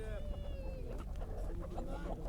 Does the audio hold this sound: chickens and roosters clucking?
yes